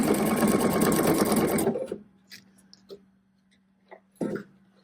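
A PFAFF Performance sewing machine, run by a multifunction foot control, stitches in a fast steady whir for under two seconds, then stops, leaving a faint motor hum and a few small clicks and handling noises.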